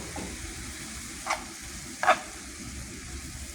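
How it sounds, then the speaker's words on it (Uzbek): Spinach fries in oil with dill added, a steady soft sizzle running throughout with two short clinking stirs of a utensil against the pan; no one talks. "Mana shunday yog'da yaxshilab qovurmalab olishinglar kerak."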